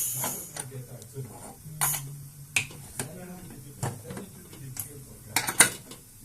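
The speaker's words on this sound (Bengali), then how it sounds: "প্রেশার কুকারটা লাগিয়ে দিলাম" A pressure cooker lid is fitted and locked, with a series of sharp metallic clicks, clacks and scrapes in an irregular rhythm, close by in a quiet kitchen.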